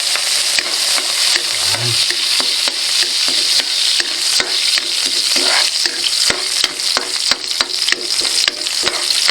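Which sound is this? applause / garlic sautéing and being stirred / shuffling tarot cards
garlic sautéing and being stirred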